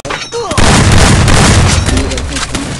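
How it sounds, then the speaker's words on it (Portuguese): A grenade explodes in a video game, a loud booming blast that swells and rumbles for a couple of seconds, with voices talking over it. "Tá fazendo um granada aí."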